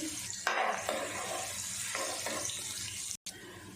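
Chopped garlic, a tablespoon, dropped into hot ghee in a pan, giving a steady close sizzle and hiss with a few stirring scrapes, with no talk.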